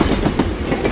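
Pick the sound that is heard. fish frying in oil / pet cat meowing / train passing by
train passing by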